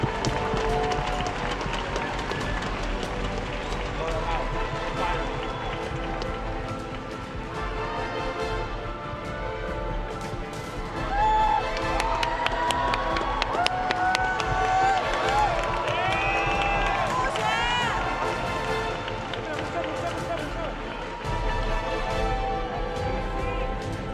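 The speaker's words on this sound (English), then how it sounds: "join me in giving a round of applause to our second and third place teams, China and South Korea" A large esports arena crowd at an Overwatch World Cup final cheers and applauds the second and third place teams, a broad sustained roar with clapping under a loud announcer-style voice and music.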